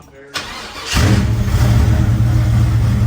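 A supercharged Corvette engine cranks briefly, catches and settles into a loud, rumbling rev close by, with a person talking over it.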